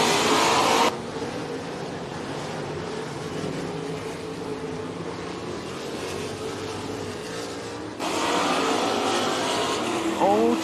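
Race cars circle a dirt track at Eagle Raceway in Eagle, Nebraska, engines droning steadily with louder passes at the start and end, beneath an announcer's play-by-play.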